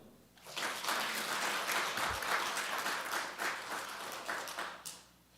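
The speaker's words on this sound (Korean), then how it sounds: "박수 한번 해주세요." A church congregation at a Korean evening worship service applauds, a full wash of clapping that swells quickly, holds steady for several seconds and then tapers off.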